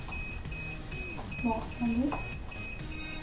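A DJI Phantom 3 drone remote controller gives steady high-pitched electronic beeps in a steady repeating pattern, while someone speaks nearby over them.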